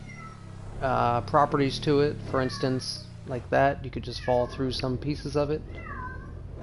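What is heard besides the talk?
cat meowing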